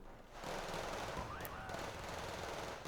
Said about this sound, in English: Panzer Grenadiers at longer range, engaging Motostrelki with the MG3